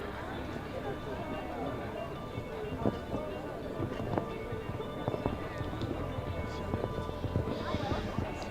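A show-jumping horse canters around an international arena course, its hoofbeats steady and fairly close within busy crowd and arena noise while commentators talk over it.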